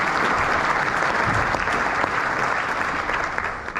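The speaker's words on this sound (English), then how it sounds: "Round of applause anyway" A theatre audience at the Adelphi Theatre applauds during a West Ham legends night, sustained loud clapping from a large crowd that tapers slightly at the end.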